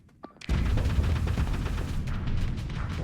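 A point-defense weapon on a spaceship in Starsector blows up in a sudden loud blast, followed by a dense, rumbling wash of crackling explosions and weapon fire that stays heavy to the end.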